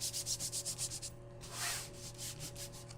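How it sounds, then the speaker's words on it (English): Sandpaper rubs over a painted craft pumpkin in quick, close back-and-forth strokes, then pauses briefly before softer, longer rubbing resumes; no voices. "I may just sand over the top of it anyway"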